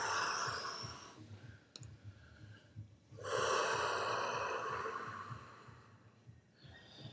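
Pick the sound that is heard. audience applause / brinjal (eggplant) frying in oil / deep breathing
deep breathing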